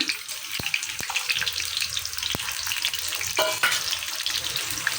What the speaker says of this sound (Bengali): রসুনটা আমি একটু ভালো করে ভেজে নিব